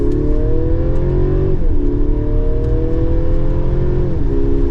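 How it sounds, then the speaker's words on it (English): A 2024 Mercedes-Benz GLC 300 Coupe accelerates at full throttle from the cabin, its engine droning steadily upward with two brief dips as the gears shift, loud and continuous with no speech. "That was pedal to the floor, and we're up to speed, so it has some performance to it."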